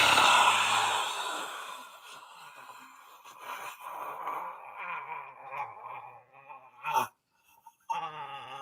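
A voice imitates a dying person's last breath: a long, breathy sigh-like exhalation followed by short gasping breaths, with a brief sharp intake near the end, heard close and alone.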